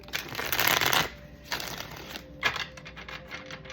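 Oracle cards riffled and shuffled in several quick bursts, close and crisp, with short pauses between bursts and no talk.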